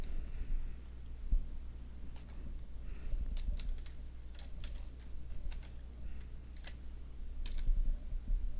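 Keys clicking on a computer keyboard in irregular bursts and pauses while a spreadsheet formula is entered, fairly close and moderately loud against a low hum.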